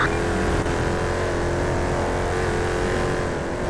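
A car driving on a freeway in a video game, with a loud, steady engine drone and road roar running unbroken throughout.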